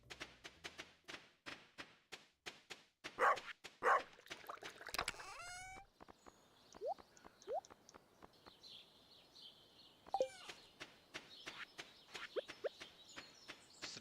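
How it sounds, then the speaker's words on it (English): Dog barking in the farming video game Stardew Valley, a few short sharp barks among soft game sound effects, chirps and clicks, fairly quiet. "Is the dog barking at him because we haven't given him a pet today?"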